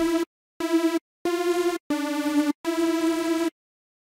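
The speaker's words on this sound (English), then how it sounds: "Sounds more like a generic super saw right now," A detuned super saw synth plays five separate sustained buzzy notes, each cut off cleanly with short silences between, in a bright electronic dance drop sound.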